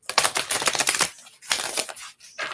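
Oracle cards are shuffled in quick riffling bursts, three close crisp rounds of rapid flicking and fluttering with short pauses between them.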